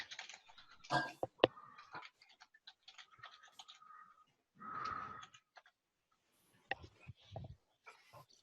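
Keystrokes on a computer keyboard come in scattered clicks and short bursts, mixed with breathy noise and pauses, at a moderate level.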